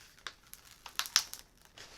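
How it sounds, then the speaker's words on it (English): Cut vinyl is peeled off a Cricut cutting mat in short crinkly, crackling bursts, a handful of sharp peeling snaps close by and fairly quiet, with no talk. "so all we have to do is just peel this off"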